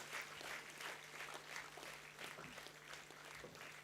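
Audience applause continues at a university convocation ceremony for an award winner, a soft, even patter of many clapping hands heard from a distance, without speech.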